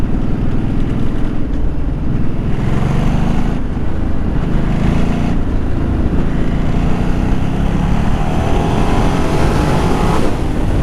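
A 13-year-old Ducati motorcycle engine roars continuously on a test ride after repair, loud and close with a steady rumble, wind noise and rising, falling revs but no voices.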